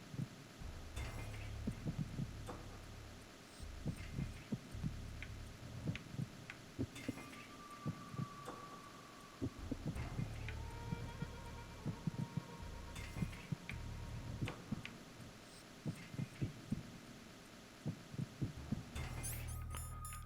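Soft, muffled heartbeat thumps from guards in the Metal Gear Solid 2: Sons of Liberty video game, pulsing in a steady, faint rhythm over low game ambience with occasional clicks.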